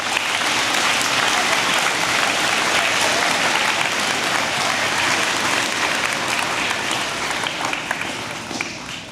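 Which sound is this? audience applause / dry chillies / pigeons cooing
audience applause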